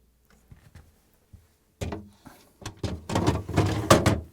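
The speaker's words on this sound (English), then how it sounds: "now I'm gonna place the drawers in" GE freezer drawers slide back in on their rails, giving a few soft thunks followed by a louder run of sliding scrapes and knocks up close.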